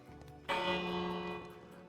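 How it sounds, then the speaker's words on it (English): A castle bell is rung in a video game, one loud resonant strike that rings out and slowly fades with a sustained metallic hum. "you can ring the bell"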